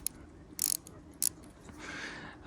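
Ratcheting screwdriver with a small Phillips bit, two short, sharp bursts of clicking close by, followed by a brief softer rustle and a bump at the end.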